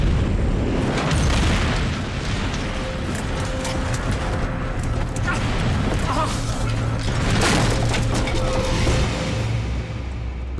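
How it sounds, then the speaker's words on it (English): A loud, sustained roar of crashing and rumbling debris as a plane hits the ground in wilderness, with booming impacts and grinding metal over about ten seconds, dense and close. "The plane is shattered on impact"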